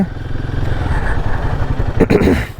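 A Royal Enfield motorcycle engine runs steadily close by with a throbbing, even pulse, and a brief clattering rattle joins near the end.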